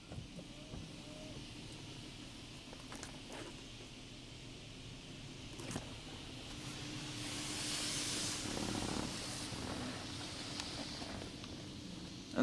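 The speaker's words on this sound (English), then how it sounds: "Alright, coating of pre-soak." Pre-soak coating being sprayed by a poorly maintained PDQ LaserWash G5-S touchless car wash: a steady, moderately loud hiss of spray runs throughout, swelling slightly near the end, with low mechanical hum underneath.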